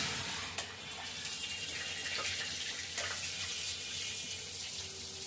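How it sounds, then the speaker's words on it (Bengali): Water pours steadily from a container into a cooking pot in a home kitchen while pulao cooks, a continuous splashing gush lasting several seconds with a small knock near the start. "এবার জলটা ঢেলে দিই"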